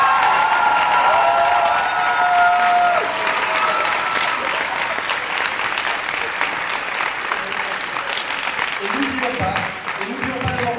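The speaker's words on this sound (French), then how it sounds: "faire un tonnerre d'applaudissements" Sustained audience applause at a school revue show honoring staff, dense and steady throughout, with a voice talking over it near the end.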